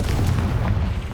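Confringo fire spell from Hogwarts Legacy bursting, a short, loud, deep boom with crackling rumble that fills the whole moment, no talk.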